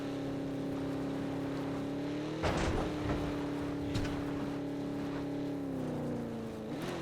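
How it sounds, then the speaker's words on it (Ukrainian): A steady, droning car engine hum in the video game PUBG runs throughout with a slight pitch shift near the end, joined by a couple of brief crunchy bursts in the middle. "Машина така, я не дуже люблю цю машину, вона сильно шумить"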